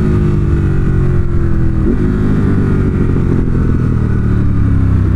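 A 2018 Ducati Monster 1200 S accelerating at wide open throttle, its engine roaring loud and close with a rising pitch that dips briefly at a gear change and then climbs again, with no voices.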